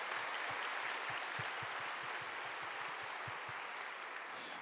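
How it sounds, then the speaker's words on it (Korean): During a Sunday worship service, a church congregation applauds newly appointed district and cell leaders: a steady, moderately distant patter of many hands with a few sharper individual claps standing out, and no talking. "다시 한번 신임 지역장 속장님들을 위해서 큰 박수를 해주시겠습니다."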